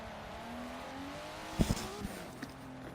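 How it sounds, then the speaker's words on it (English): Drift cars at a D1 battle with turbos spooling, a distant rising engine whine under crowd noise, broken by a few sharp bangs near the end. "Spooling Turbos."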